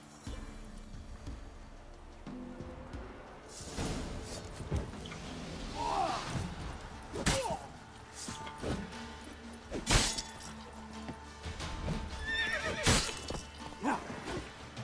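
Roach, the horse in The Witcher 3 video game, gives a couple of loud whinnies and neighs amid hoof clip-clops and thuds, with game music and effects underneath.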